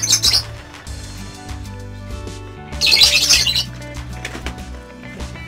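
A zebra dove of the banyumili type gives loud close squawking calls at the start and again midway, with wingbeats flapping between them and a low steady hum underneath.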